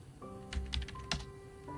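Computer keyboard typing in a short burst of a few soft clicks, faint and close, over a low background hum during a gaming session.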